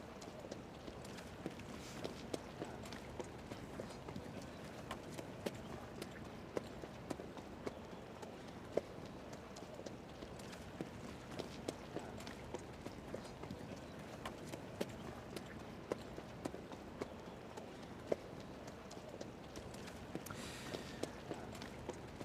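Racehorses walk in the pre-race parade before a 1900-metre dirt handicap at Dubai's Racing Carnival, their hooves clip-clopping in a steady, faint, fairly distant rhythm over low ambient noise.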